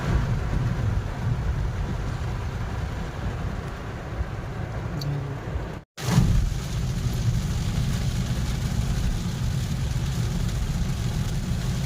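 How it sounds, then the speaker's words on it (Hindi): Steady rain falls continuously outside a home during a sudden downpour, a dense even hiss that cuts out for a moment partway through and then resumes just as strongly. "बारिश तो देखिए अभी भी हो ही रही है।"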